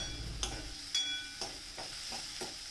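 Capsicum and peanuts tempering in a little oil over a low flame give a soft, steady sizzle, broken by several regular stirring scrapes.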